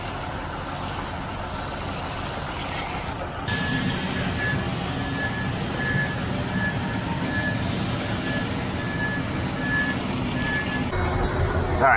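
Heavy truck on a site pouring a thick concrete floor, a steady reversing beep pulsing over engine rumble and machinery noise, with faint talk in the background.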